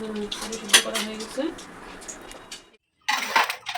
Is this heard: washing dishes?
yes